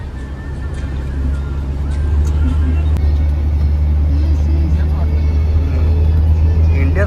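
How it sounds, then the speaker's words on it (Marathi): A Toyota Innova drives along a smooth road in Malaysia, its steady low engine and tyre rumble heard from inside the vehicle, rising slightly partway through, with no talk. "काकाची गाडी आहे इनोवा टोयोटा"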